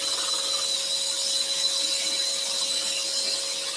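A scroll saw cuts a wooden compound-cut candle, giving a steady, even mechanical buzz with a constant whine that runs unbroken and close the whole time, with no voices.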